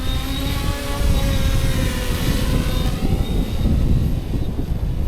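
A steady, high-pitched buzzing whine of a small FPV drone with two-blade propellers flying close by, droning continuously with slight pitch shifts throughout.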